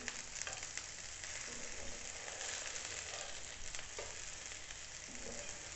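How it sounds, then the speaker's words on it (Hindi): Onion rings and vegetables frying in a pan over fairly high heat, a steady close sizzle with crackling bursts throughout, no talk. "इनको हम फ्राई करेंगे। ये एक साइड से हो गए, दूसरी साइड से करेंगे।"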